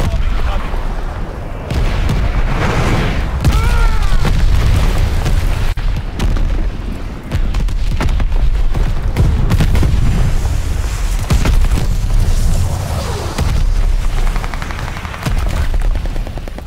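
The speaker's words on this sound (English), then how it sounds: "Enemy's got a glide bomb incoming!" Heavy booms and blasts from glide bomb strikes in the Call of Duty: Vanguard multiplayer game, dense and loud for the whole stretch, with crackling gunfire layered in between the repeated explosions.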